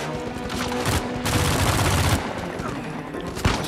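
Rapid rifle gunfire rattles in bursts during a firefight in Uncharted 4, loud and close, with sharp individual shots and a brief voice under the shooting.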